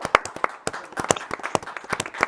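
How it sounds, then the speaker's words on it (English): A small group giving a round of applause on a live show, a brief scatter of sharp, uneven hand claps close by with no talking. "We have to give you a round of applause for what you've achieved."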